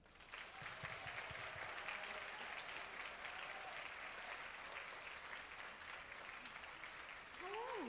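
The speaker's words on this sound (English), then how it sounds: "give us a nice rapturous round of applause" A live audience at a fashion event breaks into sustained applause that stays steady and fairly far off, with a few voices rising near the end.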